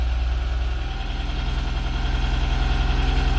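A Porsche 914 engine runs at a steady idle, a close, even rumble with a fine rhythmic pulse and no voices over it.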